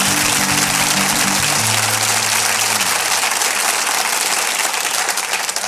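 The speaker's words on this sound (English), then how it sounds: "Give yourselves a round of applause" An audience bursts into loud, dense applause that fills the room continuously, with a low sustained musical tone sliding down and fading under the clapping.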